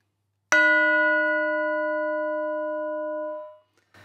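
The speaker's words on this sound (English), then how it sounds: "The final instrument to go on are the tubular bells." Tubular bells struck once with a mallet for a multitrack album demonstration, giving a single bright, loud strike with a long ringing sustain held by a foot pedal that fades after about three seconds.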